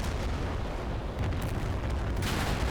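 A bomb detonates in the Combat Mission: BAOR '79 war game, a heavy, rumbling blast buried in a sustained roar of explosion noise that fills the short clip at steady loudness.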